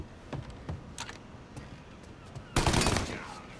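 A Tommy Gun fires in the Mafia remake video game: a few scattered faint shots early, then a loud, dense burst of automatic fire near the end that tails off.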